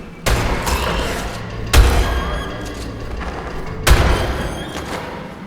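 Shotgun blasts in the video game ARK: Survival Ascended, three loud booming shots spaced a couple of seconds apart, each with a heavy low thump and a rumbling tail over continuous game ambience.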